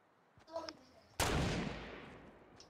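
A single sharp, loud gunshot in a video game rings out after a few faint clicks and a soft thump, then its echo dies away slowly. A distant shot sounds again near the end.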